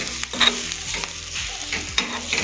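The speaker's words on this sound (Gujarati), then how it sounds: "આપણા ડ્રાય રોસ્ટ થઈ રહ્યા છે" Spices dry roast in a pan, giving a soft crackle and scrape as a spoon stirs them in repeated strokes, close and fairly loud, with no talk.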